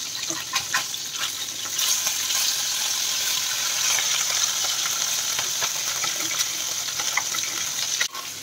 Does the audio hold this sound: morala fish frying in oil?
yes